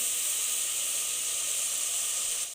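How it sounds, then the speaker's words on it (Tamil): Onions frying in plenty of oil for a prawn curry, a steady, close, even hiss of sizzling that runs unbroken until it cuts off abruptly at the end. "வெங்காயம் இப்போ தான் செவக்கவே ஆரம்பிக்குது நல்லா செவந்து வரட்டும்"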